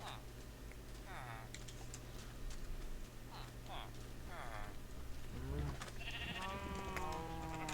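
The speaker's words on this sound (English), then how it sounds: "Might as well harvest the sheeps again." Sheep in a Minecraft farm field bleat in short, wavering calls, with several distinct bleats toward the end, over steady game ambience and keyboard tapping.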